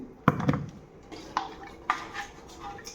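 Goat legs dropped into a cooking pot for paya soup, giving a few sharp metallic clanks and knocks at irregular intervals, loudest at the start and fading to lighter taps, with no talking.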